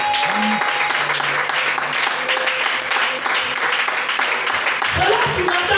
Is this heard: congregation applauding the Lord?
yes